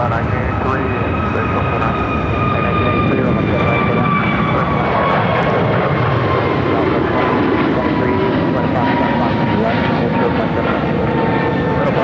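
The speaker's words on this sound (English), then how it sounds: "This American Airlines Airbus A321 is headed to Miami." Jet engines of an American Airlines Airbus A321 at Phoenix airport, a loud steady roar with slowly falling whine tones filling the whole stretch, voices faintly underneath.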